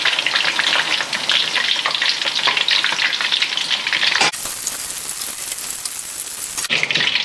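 Tofu pieces frying in hot oil, a loud continuous crackling sizzle with dense bright spatter, briefly shifting in texture as pieces are stirred or lifted with a strainer.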